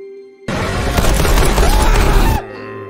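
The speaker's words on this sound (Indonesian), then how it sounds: "mendengar suara tembakan dari rumah Trip berkali-kali" A sudden burst of loud, rapid shots fires for about two seconds, then cuts off abruptly, leaving a quiet hum.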